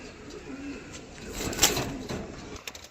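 Male pigeon with a heavily spotted black-grained eye cooing after being released, a low murmuring coo close by with a brief sharper sound in the middle, over a soft background hiss.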